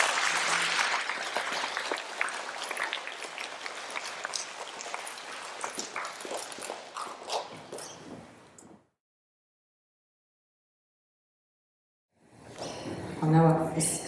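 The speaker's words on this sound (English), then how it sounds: "Can we give 3F a clap, please?" An audience claps for a class at a school stage awards presentation, sustained applause for about eight seconds that fades into silence, followed by a brief burst of voices at the end.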